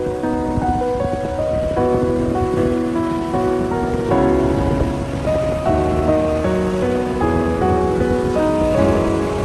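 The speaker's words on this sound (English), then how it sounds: "the sound of ocean waves at night in Myrtle Beach" Ocean waves washing onto the beach at Myrtle Beach at night, a steady, soft, continuous surf wash with no voices, though faint tonal lines run through it.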